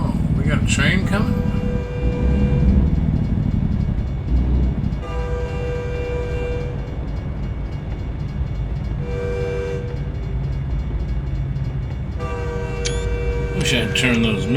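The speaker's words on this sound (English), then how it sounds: "Train coming?" Train rolling past in American Truck Simulator, a steady loud rumble with repeated horn blasts sounding in bursts, while someone talks over it throughout.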